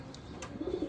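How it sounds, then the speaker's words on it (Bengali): Pigeons brooding their eggs give a few soft, low coos near the end of a brief, quiet moment. "কবুতর সব ডিম দিচ্ছে। এই যে ডিমে তা দিতে আছে।"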